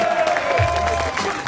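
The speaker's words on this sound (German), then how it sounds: "also zwischendurch Applaus für Troy Bigham." A short burst of applause from a crowd, steady clapping throughout with a low murmur underneath.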